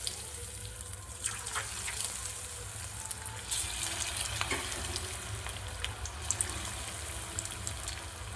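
Chicken pieces for chilli chicken fry in hot oil, a dense, steady hissing sizzle with occasional pops and spatters, close and continuous, with no voices.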